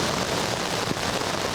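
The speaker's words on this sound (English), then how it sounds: "Listen, the rain," Rain falls steadily at LAX during Tropical Storm Hilary, a dense, even hiss of drops hitting surfaces outdoors with no voices.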